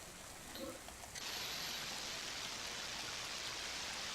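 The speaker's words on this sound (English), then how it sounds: "you see more splashes and start to hear rain in the background" Steady rain from stormy weather in the AGK World Builder video game, a dense hiss of falling drops that swells in after about a second and holds loud and even to the end.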